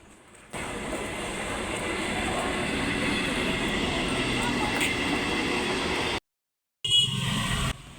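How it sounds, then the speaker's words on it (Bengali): A loud, steady train rumble as a train arrives at a station fills most of the clip, cutting out briefly before returning with the same rushing rail noise. "ওই যে ট্রেনও আসছে"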